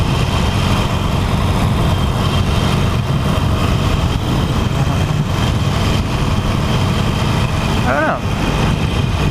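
Harley-Davidson Iron 883 motorcycle engine rumbling steadily throughout at close range, a continuous low droning idle with a brief speaking voice over it.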